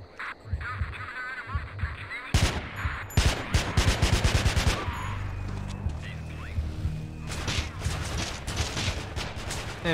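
Rapid bursts of gunfire crackle through a shootout in the video game Manhunt, dense volleys around the middle giving way to scattered shots and background noise, with a voice talking over parts of it.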